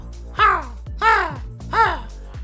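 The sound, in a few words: person imitating a crow's caw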